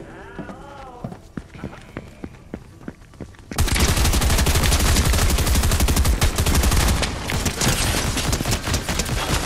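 A sniper rifle fires in a video game, a loud burst of gunfire breaking in after quieter game sounds and continuing as dense rattling shots with voices mixed in.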